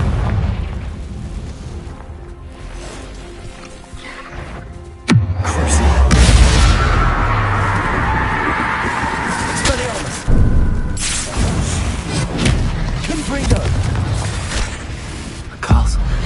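Confringo blasting-spell explosions in the video game Hogwarts Legacy, a sudden deep boom followed by a rumbling roar, then further blasts, with speech woven through the action.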